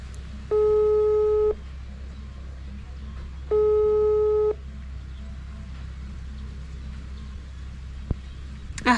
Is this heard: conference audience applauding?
no